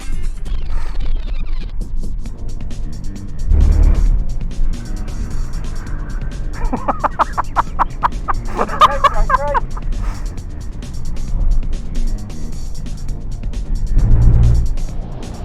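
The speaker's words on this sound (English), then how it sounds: "the car itself doesn't really want to move that quickly, but it's got lots of torque in it with that diesel engine" A rear-wheel-drive diesel car on a sprint track hairpin gives a low engine drone with surging throttle and tyre scrabble, loud and close, swelling twice as it works through the corner.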